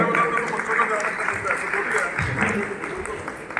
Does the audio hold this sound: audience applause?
yes